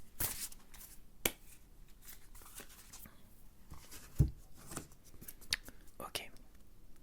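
Cartomancy cards are shuffled and drawn with soft papery flicks and a few sharper snaps, close and quiet, with faint whispering between the card sounds.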